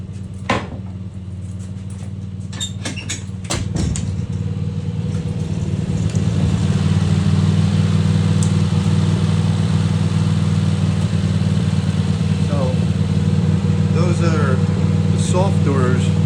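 A tractor engine idles with a steady, low rumble throughout, with occasional clanks and knocks over it and a few faint chirps near the end, beside a barn.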